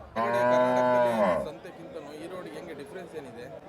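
A loud, close cow moo lasting over a second, followed by a murmur of voices and general commotion at a busy cattle market selling dairy cows.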